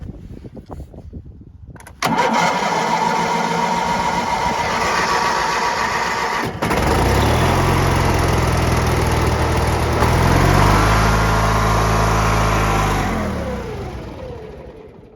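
Lawn tractor with a new battery and choke on cranks, catches and starts, then its engine runs loud and steady with rising revs before settling and fading slightly at the end.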